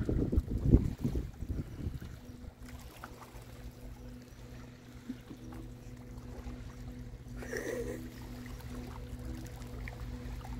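The lake freighter Paul R Tregurtha pushing water near Detour, Michigan, heard from shore as a distant, steady low engine drone with a faint water rush, after a burst of wind buffeting on the microphone at the start.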